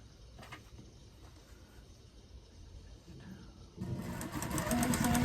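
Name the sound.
sewing machine stitching a quarter-inch seam on cotton fabric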